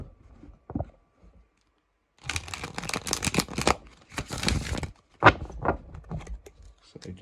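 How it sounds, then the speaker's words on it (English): Crisp riffling and flicking of a tarot deck in quick bursts, with soft taps and clicks between them, close to the listener. "It shuffles nice and easily."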